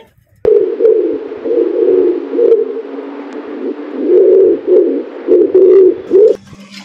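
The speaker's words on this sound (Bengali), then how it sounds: "ওরা দেখছি ছাদে কবুতর ছেড়েছে কবুতরগুলো এত সুন্দর সুন্দর" Pigeons released on a rooftop coo steadily and close by, low throaty warbling calls repeating in overlapping waves for several seconds.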